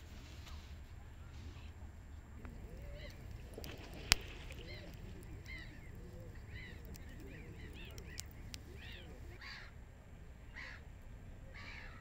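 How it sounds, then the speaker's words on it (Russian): A bird squawks and caws in short repeated bursts at a distance over steady outdoor background noise near water in Kyiv, Ukraine, with a sharp click partway through. "Там птичка орёт."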